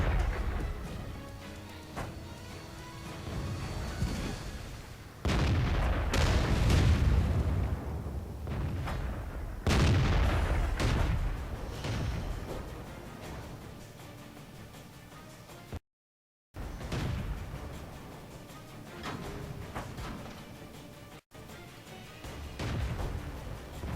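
Gunfire in a video game: heavy, booming shots ring out at intervals, each a loud burst with a long rumbling tail, over a dense background of battle noise and no talk.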